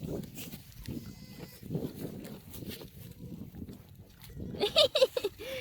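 Goats at a farm being fed, with a few close bleats bursting out near the end over steady murmuring voices and shuffling.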